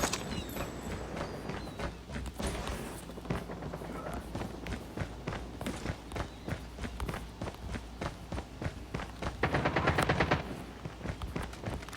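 Pistol fire in the mobile shooter COD Mobile, a long run of sharp, regularly spaced shots over game sounds and footsteps, with a short louder burst near the end.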